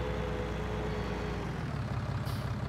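Fendt 800 Favorit tractor in Farming Simulator 19 driving downhill, a steady droning engine hum with a low rumble that stays constant and fairly close throughout, no talking.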